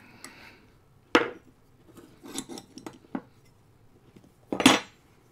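Brass nut being loosened on the steel backing iron of an old wooden hand plane, heard as a series of sharp metallic clinks and knocks with a louder clatter near the end, close and alone.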